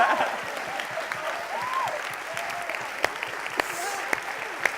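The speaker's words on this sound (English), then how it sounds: "Another round of applause." An audience at the FameLab Australia 2018 national final gives a steady round of applause in a hall. Dense, sustained clapping comes with faint voices underneath and a few sharper individual claps standing out near the end.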